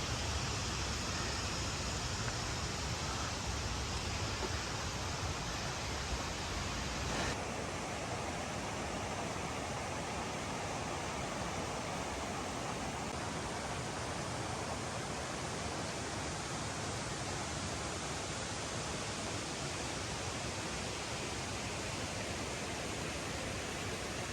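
Dismal Falls on the Appalachian Trail roars as a dense, constant wash of falling water, loud and close, with no voices over it.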